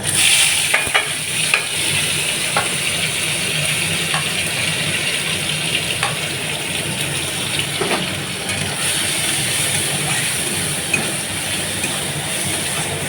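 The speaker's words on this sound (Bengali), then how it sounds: "এবার তেলটা গরম হয়ে গেছে দেখছেন, আমি গ্যাসটাকে কমিয়ে দিলাম। দিয়ে দেব ফোড়নের সমস্ত কিছু।" Cumin seeds and dried chillies crackle in hot oil on a lowered gas flame, a continuous close sizzle with occasional sharp pops and stirring, no speech.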